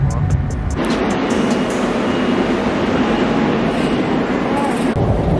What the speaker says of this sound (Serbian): Mislim da je ovo bukvalno metro podzemno ono.